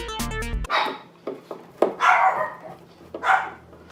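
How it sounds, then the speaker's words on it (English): Several dogs bark close by in short, sharp bursts with uneven gaps, following a brief clatter of synthesizer rack assembly work. "There's dogs."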